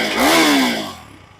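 A KTM Duke 390 single-cylinder motorcycle revs up close by in a brief, rising engine whine that swells and then fades as the throttle eases, with no talk over it.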